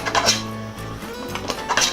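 Spoon stirring salt into a pot of cooking crab, with several metallic clinks and scrapes against the pot in an uneven rhythm, close and moderately loud, with a low hum underneath.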